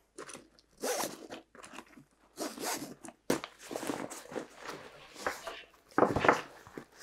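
A zipper on an Eberlestock V69 Destroyer military backpack is pulled in several quick, rasping bursts, close and crisp, mixed with fabric rustling and handling noise.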